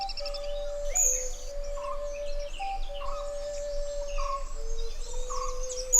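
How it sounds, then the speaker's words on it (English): Oriental Dwarf Kingfisher calling in Western Ghats forest, a few thin high-pitched chirps and short notes scattered over a steady insect drone, moderately near. "The Oriental Dwarf Kingfisher, or the ODK as we call it."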